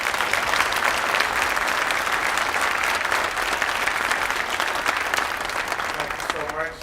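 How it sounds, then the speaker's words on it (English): An audience at an MLK celebration gives young performers sustained, loud applause, a thick continuous roar of clapping that holds steady before fading slightly at the end. "I think these young people deserve a real applause."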